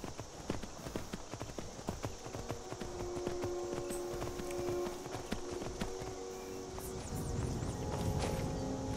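Horse hooves clip-clop in a steady, rapid walking rhythm in the video game Skyrim, with a faint whinny and soft ambient game sound underneath.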